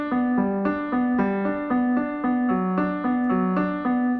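Piano plays a song's chord pattern as a steady, even arpeggio cycling top, middle and bottom notes of each chord, close and clear, with a chord change partway through and no voices.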